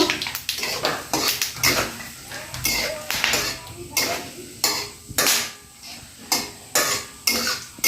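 Loud crackling and spitting of hot oil in a pan, coming in bursts with clattering utensil sounds, close by.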